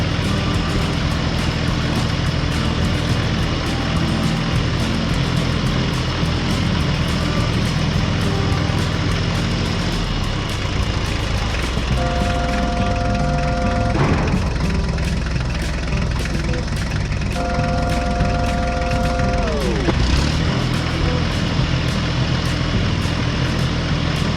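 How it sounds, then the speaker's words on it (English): A tractor engine drones steadily while driving slowly over a newly paved road, a continuous low rumble with a couple of brief shifts in pitch, no voices. "When the job was done, the tractor slowly drove over the newly paved road,"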